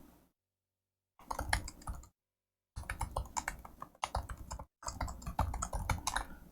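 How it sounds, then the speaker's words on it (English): Random text typed on a computer keyboard into a blank text file: several short bursts of rapid, crisp keystrokes separated by moments of silence, close and clear with no talking. "I just typed some random text in here"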